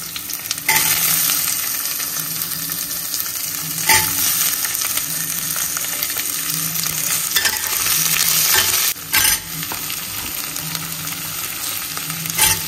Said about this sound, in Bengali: পেঁয়াজগুলো একটু নাড়াচাড়া করে সবজিগুলো দিয়ে দেবো।